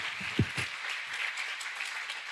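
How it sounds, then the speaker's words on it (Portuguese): A church congregation applauding during an anniversary worship service, a steady wash of clapping with a few louder claps near the start, heard at moderate distance with no voices over it. "Dê uma salva de palmas para o Senhor."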